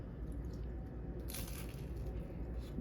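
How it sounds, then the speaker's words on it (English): Crunchy bites into fried Barbados fishcakes, a soft crushing texture over steady low background noise, with a brighter crunch burst midway. "You hear that crunch?"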